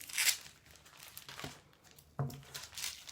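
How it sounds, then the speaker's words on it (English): Tape crinkles and tears in a few short bursts while being wound around a small homemade dumbbell made from a tin-sized weight, with brief rustles spaced through the quiet. "I tend to wrap tape around once"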